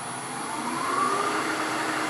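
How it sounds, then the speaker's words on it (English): Wood lathe spinning a wooden urn at about 2,000 rpm while a 1/4 inch parting tool cuts into it, a steady close whirring drone with a faint rising tonal scrape. "So I'm simply going to use this 1/4 inch parting tool and then take down just a little bit here."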